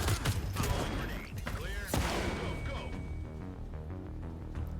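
Gunfire from a tactical shooter game, several sharp loud shots and clattering impacts near the start, then quieter mechanical clicks and room ambience.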